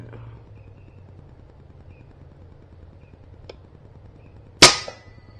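During a hunt, a single sharp, loud gunshot cracks toward the end at an animal, following several seconds of quiet outdoor ambience.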